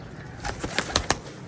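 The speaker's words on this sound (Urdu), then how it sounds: "ابھی کبوتروں کو جو ٹیڈی نسل میں جو ہے ان کو میں ابھی کھڈے میں لے کر آیا ہوں" Teddy breed pigeons flutter inside a coop, giving a quick run of four or five soft wing-flap bursts that grow louder and are close by.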